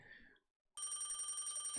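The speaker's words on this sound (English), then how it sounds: "Just answer the phone already, it's driving me crazy." An old telephone bell rings loudly and steadily after a brief silence, a continuous bright metallic jangle up close, preceded by a faint murmur.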